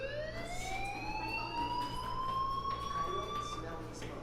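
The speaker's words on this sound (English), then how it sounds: "Do you hear that fire alarm?" A rising, wailing electronic fire alarm tone sounds continuously in the video game Life is Strange, loud and steady, with game ambience underneath.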